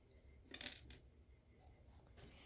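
Several small metal washers from a Traxxas TRX-4 Sport spur gear kit drop and clatter onto a hard surface in a quick metallic jingle, close and fairly faint, followed by a couple of softer taps.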